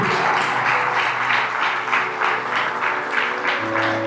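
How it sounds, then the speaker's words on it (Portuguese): Church congregation applauding during a worship service, a steady wash of many hands clapping in a rhythmic pulse, fairly loud, with a sustained musical tone beneath. "Você pode aplaudir ao Senhor por isso?"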